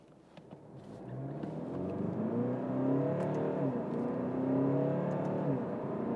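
A 2021 Alfa Romeo Giulia Q4 Veloce with a 2.2-litre 210 hp diesel accelerating hard from a standstill toward 100 km/h, heard from inside the cabin as a rising engine drone that climbs through the gears, no talking.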